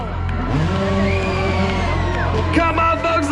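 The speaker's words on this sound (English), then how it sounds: "Come on, folks, let me hear you scream for Kyle Murdoch." Crowd at a dirt bike expo yelling, whooping and cheering loudly and continuously, with a rumble of engines or PA underneath and an announcer's voice carrying over the noise.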